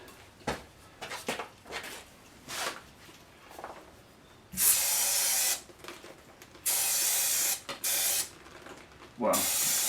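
Brake cleaner sprayed into a Porsche 928 engine cylinder, several loud hissing aerosol bursts of about a second each, preceded by scattered mechanical clicks and handling noises.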